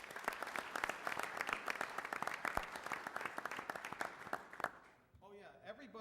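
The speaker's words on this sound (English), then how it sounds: "Give a round of applause." Applause at a city council meeting, a room of people clapping briskly for several seconds before it dies away into quieter talk at the end.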